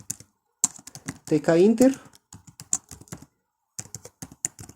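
Code being typed on a computer keyboard: quick irregular bursts of clicking keystrokes, close and crisp, with someone speaking briefly among them.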